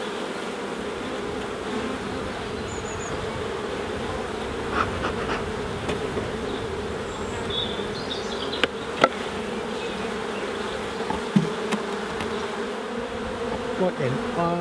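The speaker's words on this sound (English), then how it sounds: "There's so many bees in this hive." Honey bees in a crowded hive about to swarm make a steady, dense buzzing drone that fills the whole scene, with a few faint clicks and light handling noises on top.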